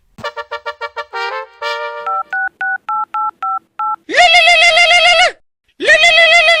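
A telephone number is dialed as a quick string of touch-tone beeps, then slower evenly spaced tones, followed by two loud sustained ringing signals separated by a short gap.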